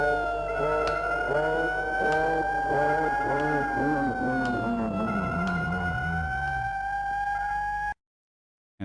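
An old 1950s-60s style police siren wails steadily with slow rising and falling pitch over a rumbling engine, loud and sustained before cutting off abruptly near the end.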